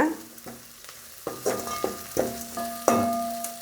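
Crushed garlic and onion sauté in a pan for a village-style crab curry: sharp ringing scrapes and clinks of a metal spoon over a close, crackling sizzle, several strokes in quick succession.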